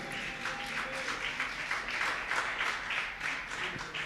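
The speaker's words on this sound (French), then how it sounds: "nous acclamons très fort pour la gloire de notre Seigneur Jésus" Church congregation at a worship service applauding loudly, a steady dense wash of clapping that swells in the middle, with faint voices beneath.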